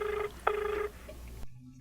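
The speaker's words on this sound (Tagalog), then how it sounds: "Agringan ti cellphone na." A cellphone rings with two short electronic tone bursts in a quiet room, followed by a brief low hum as the ringing stops.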